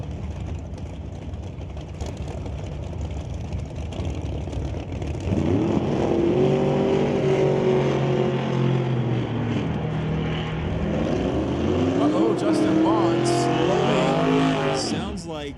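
Drag race between a Camaro and a 2001 Pontiac GTO, engines building from a distant rumble to loud revving with rising and shifting pitch sweeps as the cars launch and run.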